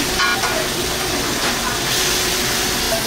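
Floured beef cutlets fry in a hot pan, giving a steady, dense sizzle and hiss that runs unbroken for a few seconds with no talking over it.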